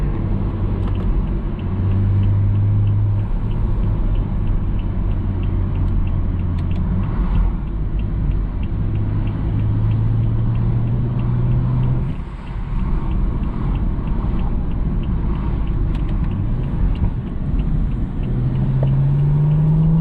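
A 480-horsepower BMW F30 335i pulls hard through its gears, heard from inside the cabin as a loud, constant engine drone that climbs in pitch, drops briefly at each shift and then climbs again.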